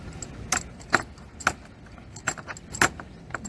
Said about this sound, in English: So 5mm wrench, Allen wrench.